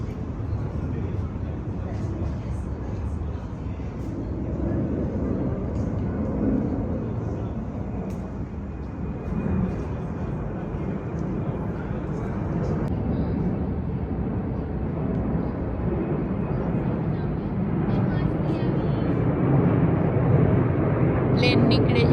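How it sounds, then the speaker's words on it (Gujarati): An airplane passes overhead, a broad, steady, distant roar that swells slightly over about twenty seconds while people talk throughout. "પ્લેન નીકળે છે એનો અવાજ આવે તો."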